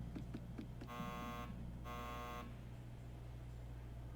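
An alarm buzzer sounds when the wrong locker combination is entered in a Nancy Drew detective video game: two harsh, steady tones of about half a second each, separated by a short gap, over a constant low hum.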